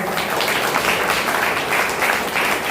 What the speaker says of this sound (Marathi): म्हणून जोरात टाळ्या वाजवा